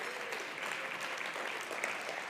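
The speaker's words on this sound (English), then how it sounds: "Can I get one more rousing round of applause?" An awards-gala audience breaks into a rousing round of applause, a dense, sustained wash of clapping from a large crowd, heard alone without talk.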